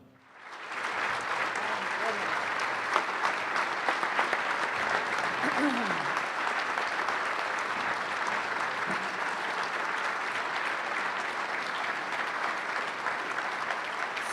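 An audience at an annual chamber of commerce celebration dinner applauds steadily, a dense sustained wash of clapping that holds at an even level for the whole stretch.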